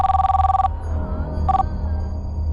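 Phone ringing in a home: two electronic rings, the first about two-thirds of a second long and the second short, loud over a low background hum.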